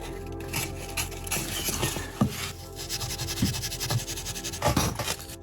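Close, steady rubbing of 320-grit sandpaper on an ivory 1911 pistol grip, a continuous scratchy rasp that swells in short strokes with a few sharper scrapes, no voices.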